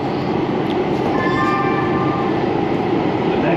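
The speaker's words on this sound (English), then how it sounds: "it's a light rail train to Santa Monica" A light rail train to Santa Monica runs with a loud, steady rumble heard from on board, carrying faint high whining tones partway through.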